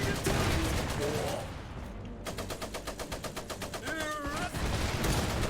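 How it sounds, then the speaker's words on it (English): Heavy machine gun in the war game Iron Harvest, rapid evenly spaced bursts of fire hammering loud and close after a burst of battle noise, with voices calling out over the shooting. "A heavy MG!"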